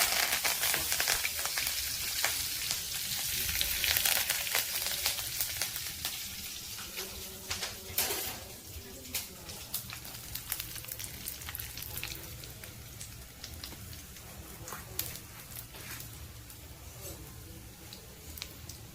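Cumin seeds and curry leaves sizzling in hot oil for a lime, chili and bitter gourd pickle, a loud crackling spatter at first that gradually settles into a softer, steady fry with scattered pops.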